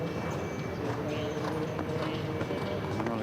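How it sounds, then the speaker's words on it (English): Hooves of a show jumping horse clatter in rhythmic clip-clop strides in an outdoor arena at a CSI5* international event, steady and close, with a commentator talking over the footfalls. "This horse looking in good form out over that Oxer at 3."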